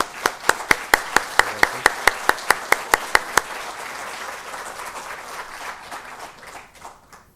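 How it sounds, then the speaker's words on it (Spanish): Audience applause at a union seminar on sector-wide bargaining in Chile: one near pair of hands claps loudly in a steady, even beat for about three seconds over a softer crowd, then broader, diffuse clapping carries on and slowly fades. "Si podemos darle un aplauso también."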